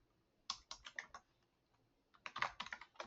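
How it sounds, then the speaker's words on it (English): Keys clack on a computer keyboard in two quick bursts of typing with a short pause between them, close and fairly soft, with no voices. "let me get done typing this"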